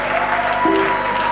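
A church congregation applauds to acclaim the Lord, a dense continuous wash of clapping from a large crowd, steady and loud throughout.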